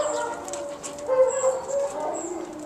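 Dogs bark far off, faint and intermittent, a few distant yaps rising over a quiet outdoor background.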